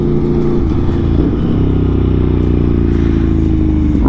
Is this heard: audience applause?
no